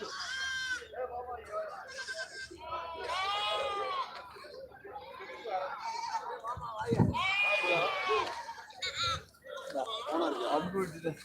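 Goats bleat at a busy livestock market in Samayapuram, their wavering cries rising repeatedly over the steady murmur of buyers and sellers talking nearby.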